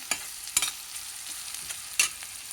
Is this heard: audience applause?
no